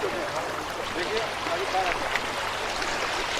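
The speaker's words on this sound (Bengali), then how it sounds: "এটাই সেই ঝর্ণা।" Waterfall at Sada Pathar in Sylhet, a steady rushing of falling water heard at moderate distance as a continuous wash, with a voice talking over it.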